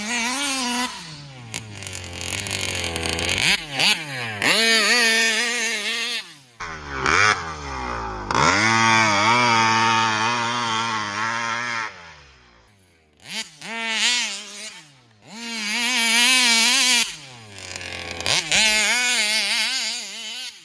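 A 71cc Vesla moped engine with 27/49 gearing screams at top speed, revving high and rising in pitch through repeated runs, dropping off and winding back up, loud and close.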